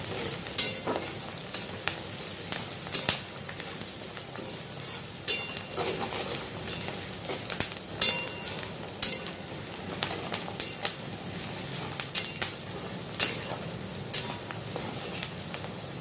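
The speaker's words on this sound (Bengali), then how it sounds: "পেঁয়াজগুলি আমি হালকা লাল করে ভেজে নিয়েছি" Onions fry in a pan with salt and sugar for a Bengali dhokar dalna, with a soft steady sizzle and regular scraping strokes of a spatula, close and with no talk.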